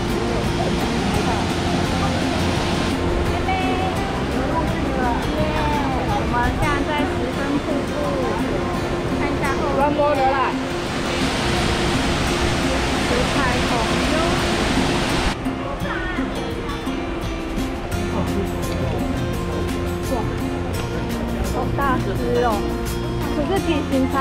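Shifen Waterfall in Taiwan's Pingxi area roars with a steady, loud, dense rush of falling water, while people talk over it.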